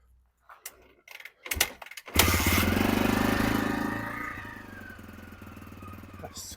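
A 30-year-old Honda XR250L dual-sport motorcycle is kicked over a few times with short mechanical clunks, then catches and settles into a loud, steady single-cylinder idle close by that slowly fades a little.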